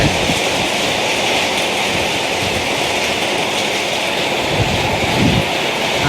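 A loud, steady roar of heavy rain pouring down, dense and continuous throughout with no voices.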